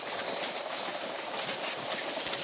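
Passenger train rolling steadily along rails on the way to Los Angeles, a continuous loud broadband rumble and rush with faint clatter throughout and no talk.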